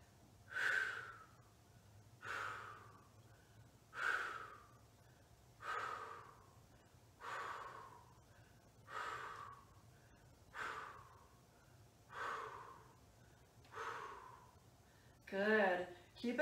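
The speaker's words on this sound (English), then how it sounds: "Exhales as we lift." Slow, steady exhalations during side-lying yoga leg lifts, about eight long soft breaths evenly spaced a couple of seconds apart, close to the mic over a low hum, with a brief voice near the end.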